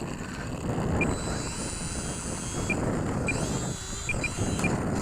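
EasySky 525mm P-38 twin-engine RC plane taxiing on a windy day, its electric motors holding a steady high whine over heavy wind rumble, with a few short clicks along the way.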